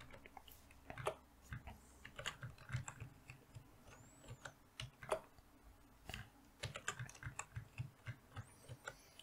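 Someone taps out a password on a computer keyboard, a quiet, close, irregular run of soft key clicks with short pauses and nobody speaking.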